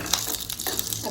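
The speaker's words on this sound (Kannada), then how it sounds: "ಇಲ್ಲಿ ರುಬ್ಕೊಂಡಂತ ಕೈಮಾ ಮಸಾಲೆನ ಕುದಿಯೋದಕ್ಕೆ ಇಟ್ಟಿದ್ದೀನಿ" Ground keema masala bubbling in a pan, a brief, close, steady hissing sizzle with soft irregular pops.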